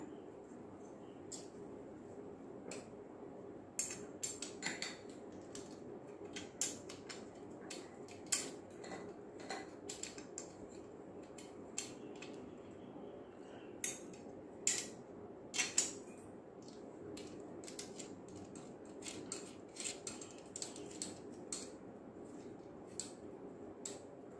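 Metal rods being fixed onto an aari embroidery work stand, giving scattered light metallic clicks, taps and scrapes at close range over a steady low background hum.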